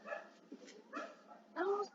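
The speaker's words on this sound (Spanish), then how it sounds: "les molesta el ladrido del perro" A dog barks somewhere outside a window, with several short bark-like bursts spaced through a brief moment, fairly clear and moderately close.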